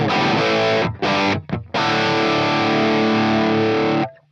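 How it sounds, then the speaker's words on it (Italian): EKO electric guitar on its humbucker pickup played rock-style with distortion, loud sustained chords broken by two short stops before a long ringing chord that cuts off cleanly. "oppure mettere l'humbucker e suonarci rock."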